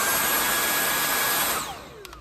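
A Dyson V8 Animal cordless stick vacuum runs on max with a steady, loud, breathy whine that holds for about a second and a half, then winds down and fades into quiet.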